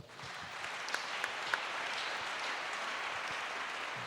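A church congregation applauds, giving a soft, distant wash of steady clapping with a few sharper claps early on.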